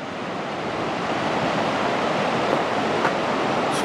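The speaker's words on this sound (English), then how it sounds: "So here it is, East Fork River from the Heaton Flat Campground parking lot." The East Fork San Gabriel River, swollen after rains, makes a steady, loud broadband rush of flowing water heard from the Heaton Flat Campground parking lot, with no pauses.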